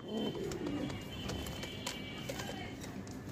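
Deshi Raj Golla pigeons, a large breed, coo softly and low, with the loudest cooing at the start over a faint, steady background of other noise.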